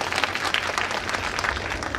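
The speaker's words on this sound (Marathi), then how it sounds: "मग टाळ्या कोण वाजवील?" Audience applause fills a political party workers' rally in Dharashiv, a steady mid-loud wash of many hands clapping together for the full two seconds with no talk over it.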